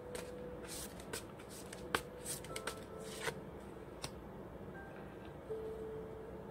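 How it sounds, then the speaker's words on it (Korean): Tarot cards shuffled and handled at close range, a run of soft riffling rustles with sharp flicks and slaps as a card is drawn, alone with no talk. "여러분들을 위한 조언 카드 한 장 뽑아보겠습니다."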